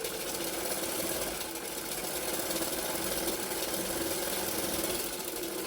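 Sewing machine stitching along the edge of a blouse neck piece, a steady continuous mechanical whir with a fast stitching pulse, close and loud throughout with no pauses or talk.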